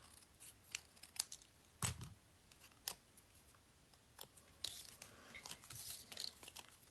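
Scissors snip a strip off card stock while making a gift bag; a handful of crisp, close cuts come at uneven intervals, with a longer rustle of paper toward the end and no talking.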